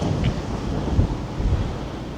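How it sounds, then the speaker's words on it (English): Strong wind buffets the microphone in a racing circuit grandstand, a continuous low roaring rumble with gusty surges, loud and close, with no voices. "It's very windy."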